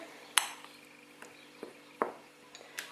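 Cake flour with baking powder is mixed in a bowl, heard as faint scattered clinks and taps of a utensil against the bowl, a few soft knocks with quiet gaps between.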